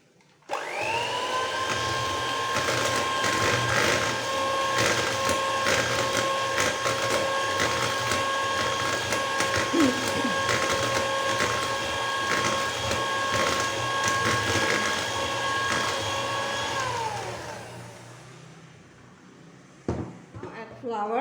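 An electric mixer whirs steadily through lemon blueberry yogurt cake batter, a loud, constant motor whine that runs for about seventeen seconds before spinning down, followed by a few soft bowl clatters.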